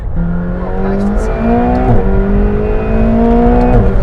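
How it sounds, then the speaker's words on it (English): A McLaren 720S accelerates hard, its engine note climbing steadily through rising pitch with a brief gear-change dip near two seconds and another near the end, loud and close throughout. "you can tell the tone of the car is definitely a bit more aggressive than the 650S"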